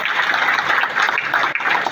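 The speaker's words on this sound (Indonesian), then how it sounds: "Ibu Profesor Dr. Megawati Soekarno Putri, kita berikan tepuk tangan yang meriah buat beliau." Crowd applause at an Indonesian PDI Perjuangan political event, a dense steady clapping wash filling the whole stretch at constant loudness, with no voices over it.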